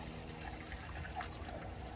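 Water trickles and pours steadily into a car engine through the oil fill, a faint, continuous liquid dribble with a small splash near the middle.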